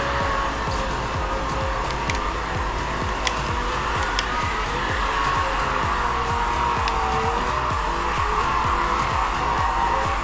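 A racing car in a Need for Speed video game drives hard with a continuous engine drone and repeated tire squeals through corners, loud and steady throughout.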